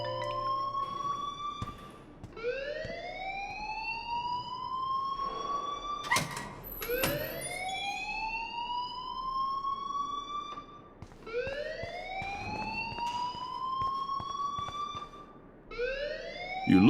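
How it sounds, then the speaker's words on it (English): An alarm in the video game Life Is Strange wails in repeated rising sweeps, each climbing and holding before restarting, loud and continuous across the whole stretch with no speech. "please turn off that alarm since that's your job"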